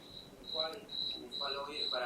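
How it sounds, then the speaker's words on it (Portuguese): A cricket chirping nearby indoors, a steady high trill repeating in regular pulses, with faint overlapping voices underneath. "Parece que tem um grilo aqui."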